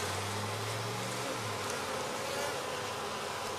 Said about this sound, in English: Look at all the bees.